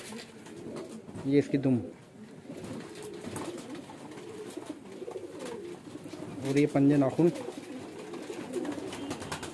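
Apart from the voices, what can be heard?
pigeons cooing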